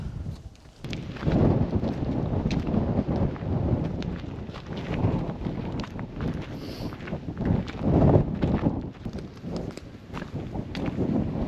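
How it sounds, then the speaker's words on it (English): Strong outdoor wind buffets the microphone in a steady, loud roar with gusty swells throughout, rumbling low and constant, and no one speaks. "It's so windy."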